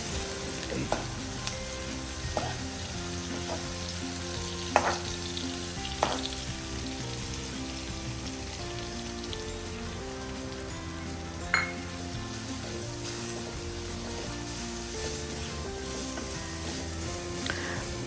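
Onions sautéing in a pan for a Kerala crab curry: a continuous soft sizzle and frying hiss with occasional utensil scrapes and clinks against the pan, fairly quiet and without speech.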